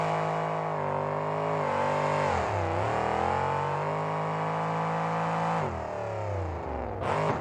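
A monster truck engine at a 2003 Salinas monster truck show roars loudly and continuously as it spins donuts, its pitch dipping and rising with throttle changes and a sharp rev near the end.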